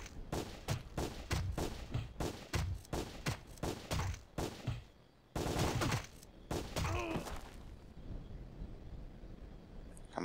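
In the video game Sure Shot, an enemy general fires rapid bursts of gunshots, a dense run of sharp repeated cracks with a short pause partway through, then scattered shots trailing off.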